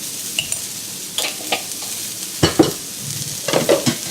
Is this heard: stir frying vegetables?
yes